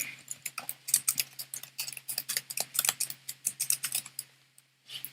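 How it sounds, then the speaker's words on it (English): Fast keystrokes on a computer keyboard as a name is typed for a Premiere Pro text animation, a dense run of close, crisp clicks over a faint hum, pausing briefly near the end. "We're going to just type our name."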